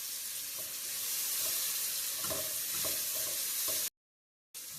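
Onion frying in about three tablespoons of cooking oil in a hot pot, a steady soft sizzle with a few stirring clicks that cuts off abruptly near the end and briefly resumes.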